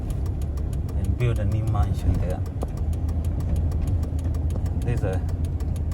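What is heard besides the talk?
garbage truck engine idling on street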